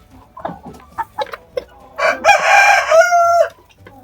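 An Amrox rooster gives several short clucks, then a loud drawn-out call, close by and clear against a quiet background.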